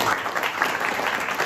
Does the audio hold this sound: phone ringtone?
no